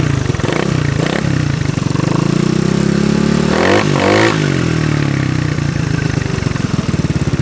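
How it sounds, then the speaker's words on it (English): A SYM HD 200 scooter with an MRP free-flow exhaust revs loudly up close, its throaty engine note rising and falling through a couple of sharp blips before settling back to a steady idle. "Definitely hear it's a lot more louder than the stock with the MRP's free flow."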